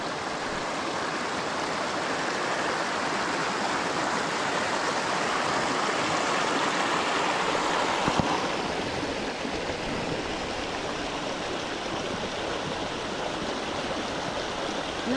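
A flowing stream in the countryside near Las Brujas, San José de las Matas, Dominican Republic, rushes with a steady, broad, close-up wash of water that lasts the whole stretch, with a single brief knock midway and no voices.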